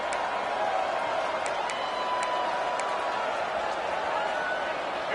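Constant roar of a huge stadium crowd in College Football 26 as Air Force fans rally the Falcons on third down, a dense, steady wash of noise with no clear breaks.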